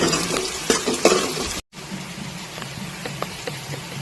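Okra, onions and green chillies stir-fry in a pan with a steady close sizzle, broken by scraping stirs in the first half, a brief gap of silence, then continued frying with lighter stirring clicks.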